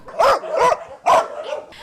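Dog barking at an animal shelter, three or four sharp close barks in quick succession, loud and alone.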